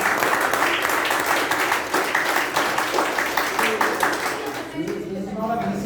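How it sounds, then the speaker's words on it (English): An audience at a youth leaders meeting breaks into sustained applause, dense clapping throughout that thins out at the end, with a voice speaking as it fades. "Give us special round of applause."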